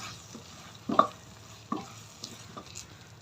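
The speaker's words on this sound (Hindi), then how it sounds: "2 मिनट इसे मसाले के साथ भी भून लेते हैं।" Macaroni being fried with spice masala in a pan, soft sizzling under a few scraping stirs of a spoon, quiet and close with no talk.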